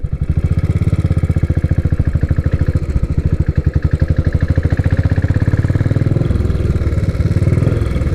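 A Royal Enfield 535 Continental GT single-cylinder motorcycle engine idles loud and close, its rapid steady thumping pulse running unbroken throughout with a slight shift in tone near the end.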